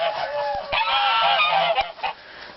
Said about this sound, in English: it's set next to real noisy geese